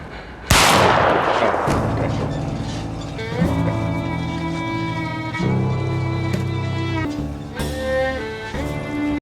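In the TV drama Peaky Blinders, one loud, sharp gunshot cracks out, and sustained tonal music then carries on under it.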